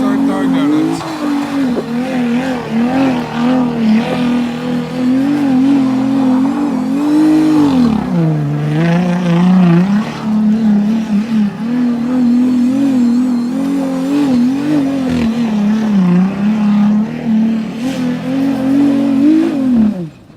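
Jeep engine running close by, a loud continuous drone that rises and dips as the engine revs, steady throughout with no break.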